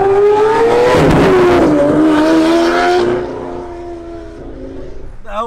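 A loud Lamborghini engine roars and revs hard up close at Monterey Car Week, pitch climbing then settling, before fading somewhat as excited voices carry on nearby.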